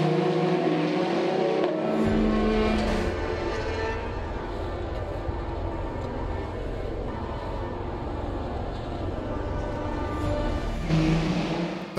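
Alpine and Glickenhaus hypercars racing at Monza, loud engine roar sweeping past close by for several seconds with rising and falling pitch as the cars pass, under a race commentator's voice.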